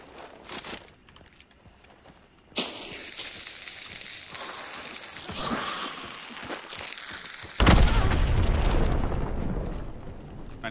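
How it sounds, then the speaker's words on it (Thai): A loud explosion in Hunt: Showdown bursts in abruptly and leaves a sustained roaring rumble, following an earlier sharp blast and quieter game ambience. "มันก็โดนพี่มันก็โดนระเบิด"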